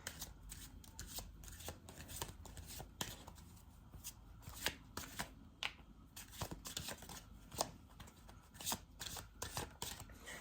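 A deck of tarot cards is shuffled by hand in a quiet room, close and crisp, with repeated rapid riffling and slapping bursts at an irregular rhythm and no talking.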